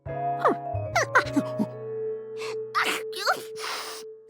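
A cartoon character sneezes in a doctor's waiting room, with about three loud, sharp bursts near the end following a stretch of voiced cries and tinkling musical tones.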